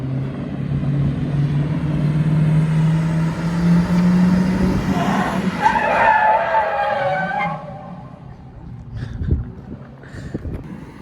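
A limousine drifting, its tires screeching in a long loud skid over engine drone, then fading into quieter rolling and scattered bumps.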